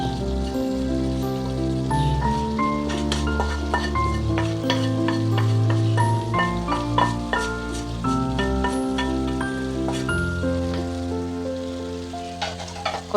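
Pre-sautéed onions tipped into a pan of chicken, with steady close frying sizzle and stirring scrapes over a musical background, no talk.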